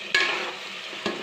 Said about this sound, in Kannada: ಈಗ ಮಸಾಲೆ ಹಾಕೊಂಬಿಡೋಣ. ಎಣ್ಣೆಲೇ ಹಾಗೆ ಫ್ರೈ ಆಗಿ ಸ್ವಲ್ಪ.